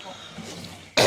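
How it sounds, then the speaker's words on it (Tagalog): A single sharp cough bursts out at the very end, loud and close after a quiet, faintly noisy lead-in. "Inuubo na ako"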